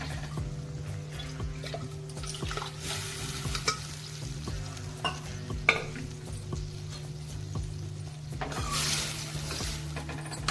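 A ladle stirs colocasia leaf curry with onion, garlic and green chillies in a pan after water is added, giving soft scraping, light bubbling and a low background hum, with louder sizzle bursts near the end.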